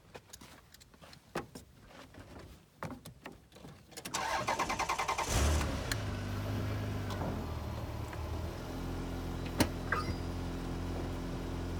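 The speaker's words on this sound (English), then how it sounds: "I'm going to be driving a Toyota Camry over it" A Toyota Camry rolls over an Olight Perun 2,000 lumen right-angle flashlight on the ground: scattered knocks and clicks first, then the engine starts and settles into a steady, close idle hum, with a few sharp ticks later.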